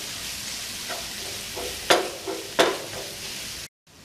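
Chicken masala and garam masala are stirred and fried in a pan, giving a soft continuous sizzle with two distinct scraping strokes and a few lighter ones before it cuts off abruptly.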